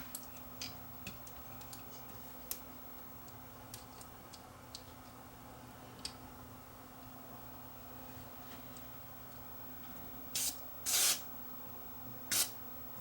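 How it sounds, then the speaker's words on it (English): Short sharp hisses of aerosol contact cleaner sprayed into the switch of a JVC HR-A61 VHS VCR burst near the end, over quiet ticking and a steady low electrical hum. "I'm just going to spray some cleaner down into the switch itself"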